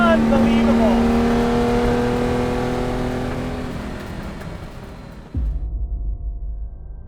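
A Ferrari 250 LM race car engine revs loud and close, a sustained high roar that slowly fades, then cuts to a lower, rougher rumble for the last couple of seconds.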